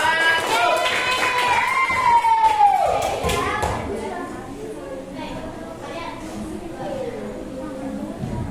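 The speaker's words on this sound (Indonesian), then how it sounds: "Tepuk tangan buat kelompok 1." Sixth-grade classroom claps for a presenting group, a dense burst of children's applause mixed with chatter and excited voices, loudest early and thinning into background talk.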